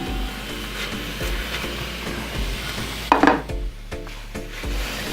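Mandolin-sliced onions frying in a pan, a continuous sizzle under repeated stirring scrapes and a louder clatter partway through, close and fairly loud.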